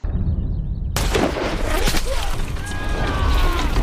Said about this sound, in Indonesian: seorang prajurit penjaga menara ditembak oleh sniper musuh